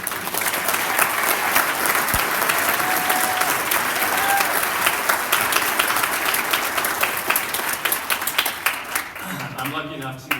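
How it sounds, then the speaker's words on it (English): A crowd claps at an outdoor field naming ceremony honoring a coach, sustained applause that thins out near the end, where a voice begins speaking. "I would just like to ask you for another round of applause for Helen tonight."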